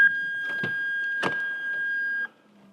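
A steady electronic tone sounds for about two seconds from inside a 2004 Ferrari 360 Spider, with a couple of mechanical clunks over it, then cuts off.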